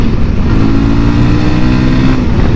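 A Voge 300 Rally adventure motorcycle pulls away in a tall first gear, its engine droning loud and steady with a low, even rumble that holds without a break.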